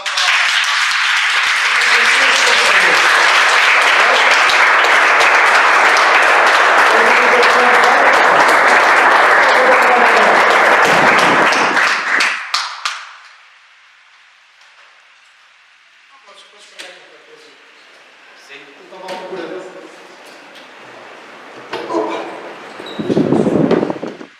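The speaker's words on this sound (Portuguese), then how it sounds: "Vamos dar uma salva" A church congregation claps loudly as one dense, sustained round of applause for about twelve seconds, then stops abruptly, leaving a quieter room with scattered voices and a brief low sound at the end.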